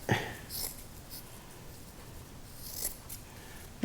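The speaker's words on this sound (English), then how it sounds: "now I'm just going to finish the job with a pair of scissors here" Quiet snipping and rubbing of scissors working through stiff fiberglass cloth on a Whitehall boat hull, with faint scraping and a few soft crisp cuts.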